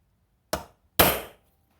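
A ductile iron bench vise, not yet bolted down, struck twice with a metal tool: two sharp, bright clanks about half a second apart, the second louder with a longer ringing decay, in a quiet room.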